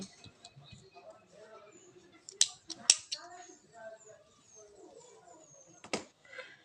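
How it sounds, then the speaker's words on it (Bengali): Scissors snip crochet thread after a chain is finished on a crocheted neck design, producing a few sharp, quiet clicks close by among soft handling noises. "একটি চেন করে সুতাটিকে কেটে নিচ্ছি"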